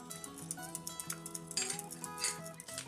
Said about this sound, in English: add the yeast and whisk it in